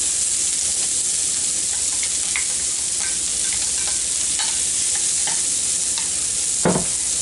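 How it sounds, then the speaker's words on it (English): Onions sizzle in melted butter in a pan, a steady, dense, close hiss with light crackles and a faint utensil tap near the end. "I'm going to put my onions in there."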